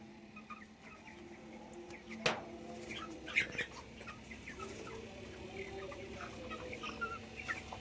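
Broiler chickens, 22 days old, on a poultry farm: soft overlapping clucks and murmurs fill the house, with a couple of sharper, louder calls rising briefly above the flock.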